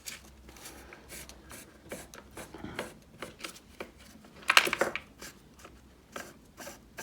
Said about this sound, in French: il faut vraiment essayer de mettre le papier à poncer dans le fond